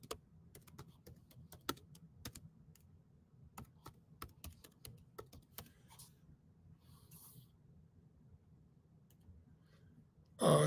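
Faint, irregular clicking of fingers typing on a computer keyboard in a quiet room, with bursts of quick keystrokes and short pauses. A loud sudden noise cuts in at the very end.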